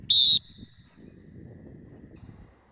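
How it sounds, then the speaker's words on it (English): A single short, sharp, high-pitched dog training whistle blast, followed by faint wind and rustling outdoors. "So what you do is you hit the whistle."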